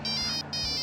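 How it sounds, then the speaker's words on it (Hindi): A mobile phone rings with a bright electronic tone in two short pulsed bursts separated by a brief gap, fairly quiet and alone with no talking. "ये किसका फोन आ गया?"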